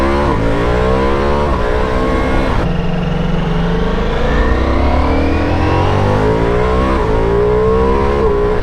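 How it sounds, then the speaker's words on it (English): A Ducati Multistrada V4 RS motorcycle engine revs hard through the gears, loud and close, with rising pitch sweeps broken by quick shifts; no talking. "you're doing 40 mile an hour in third gear, and then you twist the throttle"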